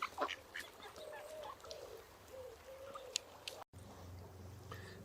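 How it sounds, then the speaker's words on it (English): Ducks by a river quacking softly at a distance, a few short calls over steady outdoor ambience with faint water and wind noise. "Yeah, ducks."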